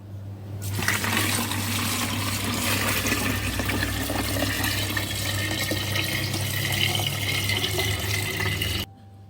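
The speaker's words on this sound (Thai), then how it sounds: "เดี๋ยวเราจะเทน้ำตามลงไปค่ะ" Water pours steadily into a bucket already holding watermelon flesh for making watermelon wine, a constant rushing splash that starts abruptly, holds steady and cuts off near the end.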